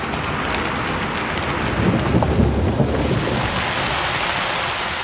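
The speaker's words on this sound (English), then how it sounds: "Free rain generator instrument available." Dense, steady synthesized rain hiss from a rain generator plugin fills the space evenly, a continuous wash of patter with no voices and no breaks.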